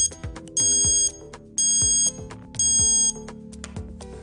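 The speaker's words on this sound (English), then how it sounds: "It's preset to ring as soon as you unplug your device." A charger leash alarm, preset to go off when a device is unplugged, rings in three loud, evenly spaced electronic beeping bursts over a background of lighter chiming tones, close and with no talking.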